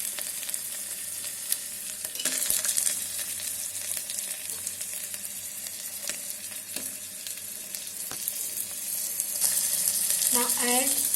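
Tomatoes fry in an electric kettle for veg pulao, a steady soft sizzle with occasional stirring scrapes and clinks running throughout, close and moderately quiet with no talking.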